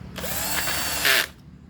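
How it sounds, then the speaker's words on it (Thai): A close power drill runs in one continuous whirring burst of just over a second while reassembling a Honda GX35 brush cutter engine, its pitch rising briefly near the end before it cuts off. "สว่านคันเข้าไปก่อนนะครับ"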